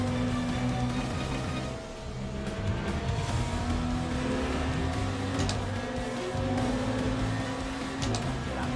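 Race cars in the Le Mans Ultimate racing game run through the Porsche curves, a steady close engine drone with shifting pitch, brief tire squeal and traffic passing, continuous and loud throughout.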